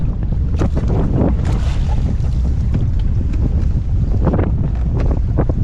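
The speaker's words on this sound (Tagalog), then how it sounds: "medyo may simoy ng amihan" The northeast monsoon wind blows at sea during traditional handline fishing from a boat. It is a loud, constant rush of wind buffeting the microphone, with gusts and water sloshing throughout.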